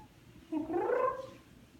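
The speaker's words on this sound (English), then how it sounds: "He meows a lot when he's hungry." A house cat gives a single drawn-out meow, close and moderately loud, rising and then falling in pitch over roughly a second in an otherwise quiet room.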